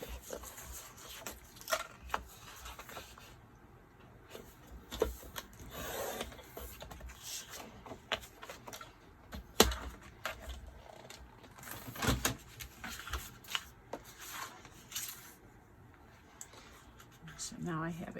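White cardstock is trimmed down to 11 by 11 inches: scattered close clicks, scrapes and rustling of paper and cutter, uneven and fairly quiet.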